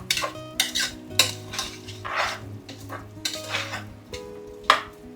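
Prawn biryani masala being stirred and fried in a pan, with repeated scraping and clinking of a utensil against the metal in an uneven rhythm over a low steady hum, close and moderately loud, no talk.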